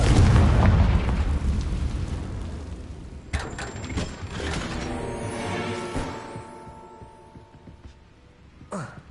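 A Confringo blasting spell detonates in a wizard game, a loud blast up front fading into rumble, followed by clanking mechanical clicks and a tonal magical shimmer, with another sharp hit at the very end.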